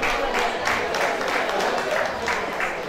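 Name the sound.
audience applauding a guest at an awards ceremony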